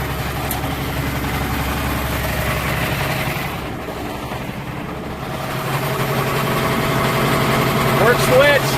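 A 1969 John Deere 4020 diesel tractor runs steadily with its PTO engaged, giving a continuous low engine drone that swells slightly toward the end. No one speaks.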